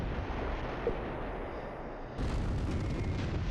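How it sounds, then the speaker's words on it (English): Mortar barrage in the World War II strategy game Close Combat III: faint, distant rumbling detonations under a steady dull roar, swelling slightly louder toward the end, with no voices. "Drop some mortars on these guys."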